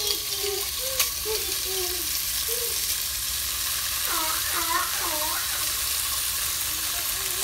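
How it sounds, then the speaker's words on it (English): Pork sausage links sizzle loudly in a pan already used for bacon and onion, a steady crackling fry throughout with faint clinks of stirring and a brief murmur of voice in the background. "add these classic pork links to your pan, the same one that you used for your bacon and onion."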